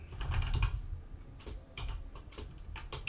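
Rapid typing on a computer keyboard while coding a full stack ASP.NET Core and Angular app, bursts of close, crisp keystrokes in irregular clusters with short pauses between them.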